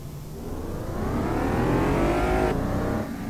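Race car engine in Automobilista 2 at Curvelo, a near, steady roar that climbs in pitch as the car accelerates, then cuts off sharply as a gear shifts, with no speech.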